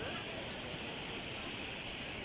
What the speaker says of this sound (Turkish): Daha şelale şurada işte.